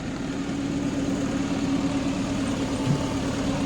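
A car engine idles steadily nearby, a low, even rumble with a constant hum that holds without change throughout.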